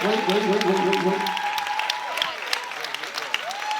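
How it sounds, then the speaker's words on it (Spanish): Audience applause at a Cuban salsa festival show, steady clapping filling the space with some music and voices mixed in, fading somewhat toward the end. "One applause more."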